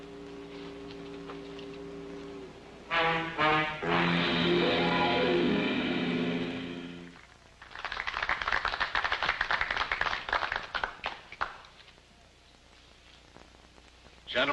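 A film audience claps and applauds. Dense clapping swells, fades, then rises again before dying away into scattered claps, with a voice speaking briefly at the start.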